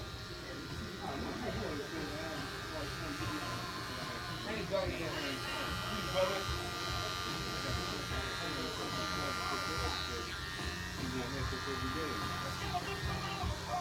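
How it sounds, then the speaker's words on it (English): Electric clippers buzzing steadily at a salon while shaving the back of a customer's neck, a low continuous hum beneath background chatter and voices. "Maybe shave the back of your neck."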